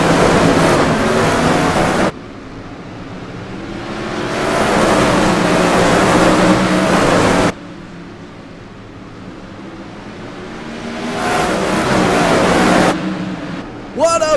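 Sprint cars in the iRacing sim roar off at the green flag at Southern National Motorsports Park, a broad loud engine drone swelling and fading in waves as the pack passes, with abrupt cuts between loud and quieter stretches.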